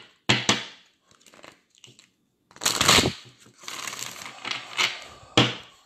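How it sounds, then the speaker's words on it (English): Tarot cards being shuffled by hand, sharp riffling bursts and a quick cut separated by brief quiet gaps, close and fairly loud with no talking. "Shuffle the cards, cut them in half."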